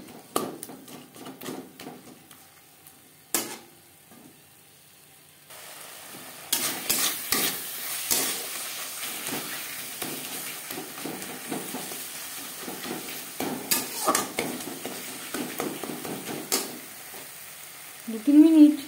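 Mashed boiled tomato and spice paste stir-fried in a pan without added water, with scraping and stirring bursts over a soft sizzle, pausing briefly before livelier, steady frying noise builds toward the end.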